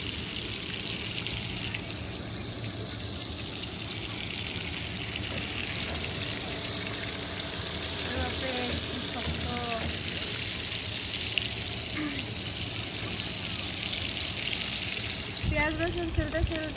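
Fish fries in a pan on a village-style rooftop cooking setup, a continuous soft sizzle and crackle running throughout, with a few faint chirps over it near the end.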